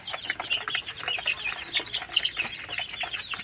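Native chicks peep steadily, many high, thin calls overlapping in a busy, continuous chorus close by with no voices.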